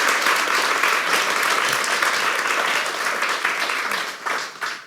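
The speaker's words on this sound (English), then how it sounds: "I think that deserves another round of applause." Loud, dense audience applause rings through a hall during a panel talk on empathy and homelessness, steady at first and then thinning and tapering off near the end, with no voices over it.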